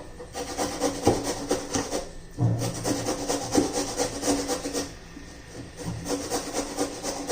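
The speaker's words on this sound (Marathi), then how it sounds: "आता काय करणार आहोत आपण पहिलं बीट किसून घेणार आहोत" Peeled beetroot being grated by hand, rhythmic rasping strokes close up, repeating steadily with a short pause partway through.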